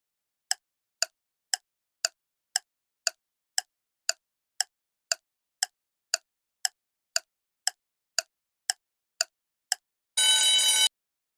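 A telephone bell rings in short, evenly spaced bursts, about two per second for ten seconds, clear and alone, then ends in a brief loud burst of noise.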